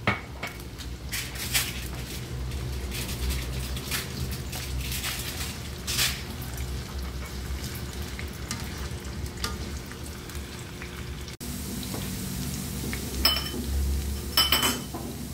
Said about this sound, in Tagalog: Prituin muna natin itong patatas at carrots.